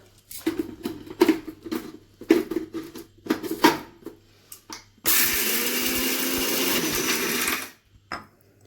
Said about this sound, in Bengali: এখন আমি এখানে একটু মিষ্টি আমি গুঁড়ো করে নিচ্ছি